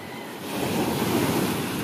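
Big ocean waves heard from a small boat, a broad rushing surge of water swelling loud with wind buffeting the microphone.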